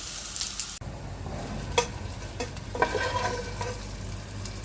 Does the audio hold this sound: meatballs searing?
yes